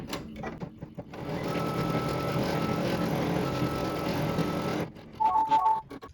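An embroidery machine stitching a bean stitch appliqué placement line in black thread: a fast steady mechanical whir runs for several seconds after a few clicks, then stops, followed by brief beeps.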